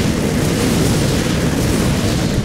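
A building explodes in the StarCraft II strategy game as an engineering bay is destroyed, a dense, continuous low rumble of blast noise that stays loud and heavy across the whole moment with no talking.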